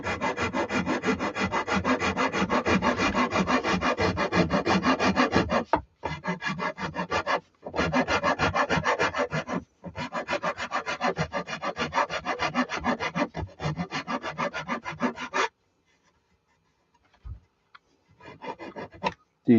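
Aggressive file rasps hard against the wooden body of a cigar box guitar, with loud, steady back-and-forth strokes close by and only brief pauses, before the scraping stops near the end.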